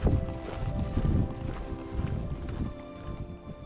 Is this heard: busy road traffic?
no